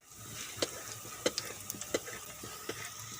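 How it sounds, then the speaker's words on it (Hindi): Eggplant pakoras frying in hot ghee give a steady soft sizzle, broken by several sharp crackles and pops as the battered pieces cook, fairly close and with no one talking. "घी हमारा गर्म हो चुका है। अब हम पकौड़े पकाना शुरू कर रहे हैं।"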